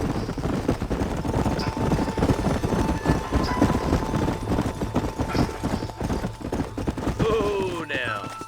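Horses trotting in the video game Red Dead Redemption, a steady close clip-clop of hooves under rolling wagon and ambient game sound, with voices talking throughout.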